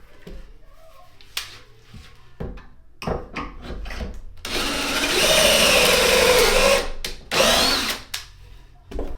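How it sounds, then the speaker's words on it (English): A power drill whirs in short bursts, drilling pocket holes with a jig for drawer parts, then runs in one long steady grinding stretch before a few more quick bursts, close and loud. "put everything in its place and then drill the pocket holes"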